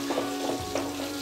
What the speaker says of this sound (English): So mix it properly once again so that the tomatoes should become oily